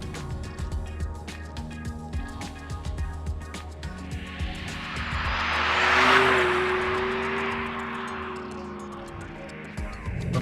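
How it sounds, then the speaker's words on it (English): An all-electric Abarth drives with a steady artificial engine-like hum that rises and falls, road noise and a passing whoosh around the middle, heard from inside the cabin. "the sound this car is making, and I can get why, because if you think about it, it's just a fake sound"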